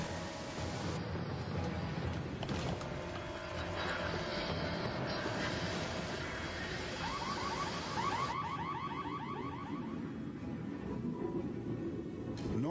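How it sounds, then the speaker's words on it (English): Submarine general alarm blaring continuously, a steady electronic tone with a rapid pulsing warble partway through, heard over a dense rumbling background throughout. "The general alarm is sounded."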